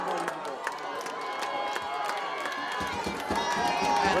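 Wild crowd noise at a high school football game, Algonquin against Shepherd Hill, as time nears expiring: a dense, steady roar with scattered yells and cheering, fairly loud and continuous throughout, with no clear talk over it.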